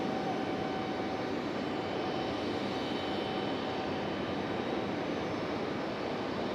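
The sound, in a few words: FedEx cargo jet taking off at RDU airport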